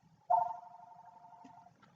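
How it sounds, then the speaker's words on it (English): A telephone rings loudly once with a steady two-tone electronic trill lasting over a second, then fades, leaving a low hum and faint background noise. "someone's being rude and ringing my phone"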